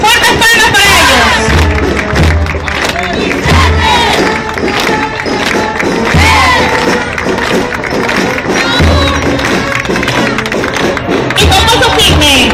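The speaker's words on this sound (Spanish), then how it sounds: "¡Fuertes palmas para ellos!" A large crowd at a primary school parade for grades four to six cheers and claps, loud and continuous throughout, with rhythmic low thumps and voices shouting within the din.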